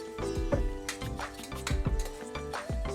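Sliced onions stir-fried in a pan for mutton dum biryani: repeated metal clanks and scrapes of a spoon against the pan over a soft sizzle, close and rhythmic.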